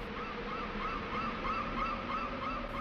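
Seagull cries in the Treasure Trove Cove area of Banjo-Kazooie, a series of honking calls repeating steadily over a constant breezy ambient bed. They are moderately loud, with no voices.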